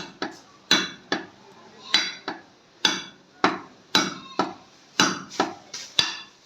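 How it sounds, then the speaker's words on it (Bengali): A small machete chopping cow leg bones, a series of sharp, hard knocks in an uneven rhythm, about a dozen close blows with short ringing tails and no speech. "এই দা দিয়ে কাটেছি, এই মাত্র একটু ছোট্ট দা দিয়ে কাটছি।"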